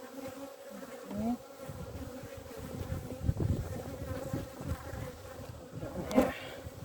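Bees buzz steadily around open beehives during a brood inspection, a dense continuous hum with a few louder passes close to the microphone and no talking.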